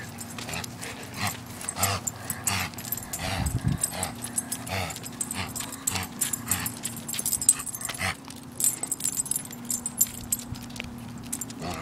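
An excited dog out on a walk along a driveway, with jingling tags or keys and small whimpers over steady outdoor background noise, including a faint passing car, continuing throughout.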